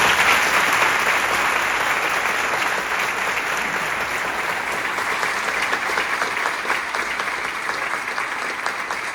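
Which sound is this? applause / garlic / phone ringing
applause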